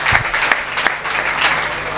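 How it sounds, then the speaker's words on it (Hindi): A prayer-meeting congregation claps together, the applause steady and fairly loud for the whole stretch, with a few sharper individual claps standing out. "आप लोग तालियाँ बजाकर प्रभु यीशु को धन्यवाद"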